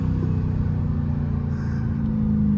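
A 900 hp Dodge Hellcat cruising with a loud, steady engine drone and a faint whine riding above it, heard from inside the cabin with the sunroof open, without any talking.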